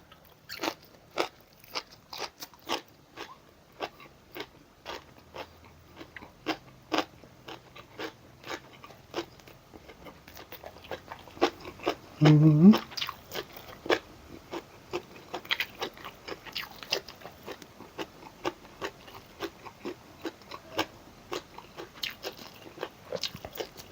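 Crisp crunching bites and chewing of grilled pork neck with pounded bean salad, heard close up as a long run of sharp crackly chews, one louder burst midway.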